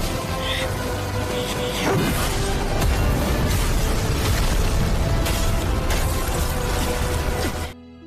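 Explosion in an animated fantasy battle series, a heavy booming blast with rumbling debris and crackling bursts layered over each other, loud and sustained for several seconds before cutting off abruptly.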